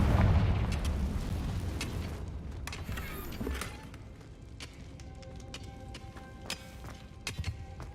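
Confringo blasting spell in Hogwarts Legacy gameplay: a loud booming burst at the start that rumbles and decays over a few seconds, followed by fainter scattered pops and clicks of game effects.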